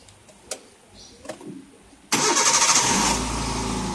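A few faint clicks and rustles, then a Hyundai Santro Xing engine cranks and catches abruptly, settling into a steady, fairly loud idle close by.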